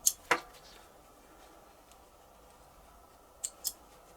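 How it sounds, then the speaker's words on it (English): Scissors snip cotton thread ends: two sharp close cuts at the start, a quiet pause, then two more snips near the end. "Now trim off all the cotton ends."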